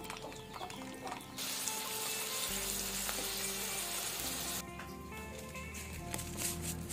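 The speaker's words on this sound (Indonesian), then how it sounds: "Sambal bajak ini digoreng dulu cabai dan bawang putih" Chili and garlic fry in hot oil for sambal bajak, a steady close sizzle with scattered crackles and pops and occasional scraping, no talk.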